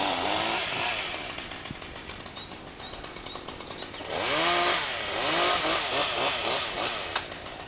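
A chainsaw runs nearby, its engine rising and falling in pitch as it revs and bites into wood, loud and continuous.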